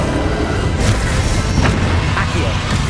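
Spell-casting blasts in the Hogwarts Legacy final battle against Ranrock, with bright magical bursts and booming impacts over a dense, loud wash of game music and effects, recurring every half second or so.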